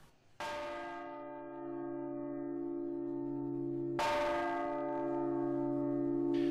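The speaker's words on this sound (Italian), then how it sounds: "10 rintocchi di campana a morte sono stati ripetuti" A church bell at the Duomo in Agrigento tolls a death knell: two loud strikes about three and a half seconds apart, each ringing on in a long humming decay.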